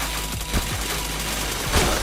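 Rapid video game gunfire, a dense bursting fusillade of shots under a noisy mix.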